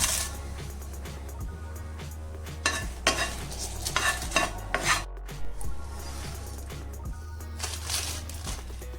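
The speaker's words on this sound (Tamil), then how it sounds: "இப்போ மிளகாய நம்ம வறுத்துடலாம்." Dry red chillies being roasted in a pan for Andhra paruppu podi, with continuous scraping and stirring of a ladle against the pan and a light dry rattle and sizzle, close and steady, no talk.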